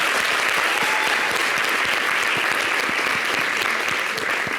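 A studio audience at a summer television broadcast applauds the best Ligue 1 player with dense, sustained clapping that holds at an even level for several seconds, with no speech over it.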